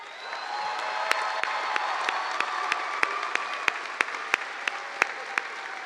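Graduation crowd at a 2022 high school ceremony applauds the graduating class: steady, broad clapping from a large audience across the whole stretch, with a few sharper claps standing out near the microphone.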